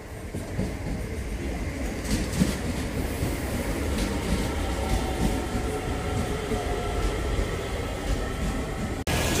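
Steady rumble and rattle from inside a crowded DART commuter train riding through Dublin, a continuous broadband roar with faint rhythmic clatter and no talking, ending with a brief dropout.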